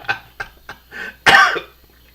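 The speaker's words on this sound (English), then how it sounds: "They got me coughing." A person coughs: a few short, sharp dry coughs, then one longer and louder hacking cough, close and clear with no talk.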